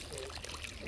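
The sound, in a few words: clean water trickling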